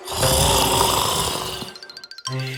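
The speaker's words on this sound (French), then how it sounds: "le lion ronflait si fort" A cartoon lion snores loudly in an animated fable, a long, dense rasping rumble that fades into a few softer breaths before a sharp new sound cuts in.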